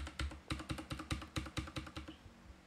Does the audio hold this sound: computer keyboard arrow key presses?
yes